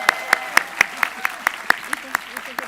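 One person clapping alone at a nursing graduation ceremony, about a dozen sharp, evenly spaced claps in a steady rhythm, close and fairly loud, with no crowd joining in.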